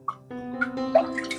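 Roughly 60 grams of sourdough starter stirred into 300 grams of water, giving a few soft, wet drips and clinks over a faint hum, close and quiet, with no talking.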